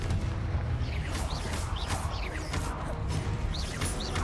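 Confringo fire blast spells in Hogwarts Legacy combat, a dense barrage of booming bursts and crashing impacts repeating over loud, continuous battle noise, with no talking.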